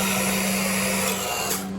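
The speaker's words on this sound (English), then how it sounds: "my co-partner is already trying to use my bit to drill holes" Power drill with a bit drilling holes during work on a Honda 500 buggy, a continuous loud whirring hum that holds steady, then eases near the end.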